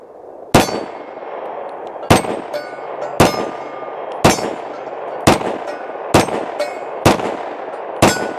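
A Smith & Wesson 30 Super Carry pistol fires eight loud, sharp shots at an outdoor range, irregularly spaced. Each bang is followed by the metallic ring of steel targets 10 yards away, over a low background hiss.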